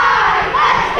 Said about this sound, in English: They're cheering for my boy.